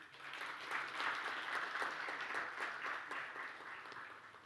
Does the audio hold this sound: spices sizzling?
no